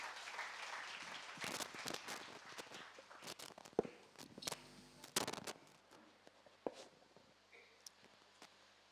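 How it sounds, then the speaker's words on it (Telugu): A church audience claps to welcome a pastor to the stage at a Christian gathering in Gudivada, a quiet scattered applause with distinct sharp claps that rises briefly mid-way, fairly faint and distant. "చప్పట్లు కొట్టి ఆహ్వానించడం."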